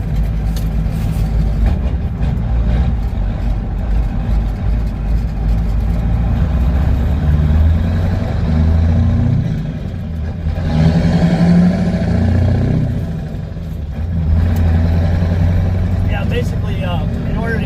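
A deep diesel engine in a medium-duty truck, a CAT 3208T, rumbles steadily nearby, swelling in a few revs, with a voice talking over it.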